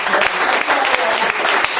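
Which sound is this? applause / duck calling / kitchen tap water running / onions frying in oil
applause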